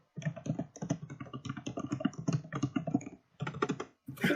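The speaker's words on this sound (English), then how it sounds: "I just hear Quinlan typing" Rapid clicking keystrokes on a computer keyboard, typed in dense bursts with a short pause near the end, close and clear with no talking over it.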